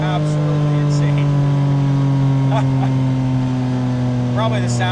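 Porsche GT4 RS engine holding a steady, loud droning note from the cabin, a smooth sustained tone with slight pitch drift and occasional voices over the top.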